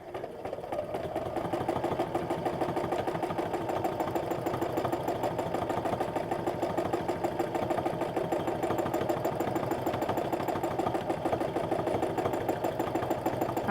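Sewing machine stitching steadily during free motion quilting, a continuous fast mechanical whir and rapid needle patter, loud and close with no talk.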